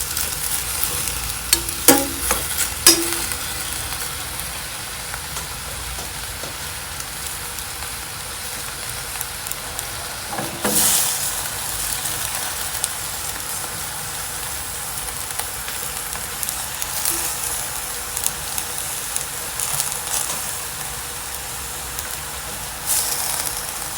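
Chinese cabbage stir-fried in a pan with little seasoning sizzles steadily and up close, with occasional sharper clatters and scrapes of stirring rising over the constant frying hiss.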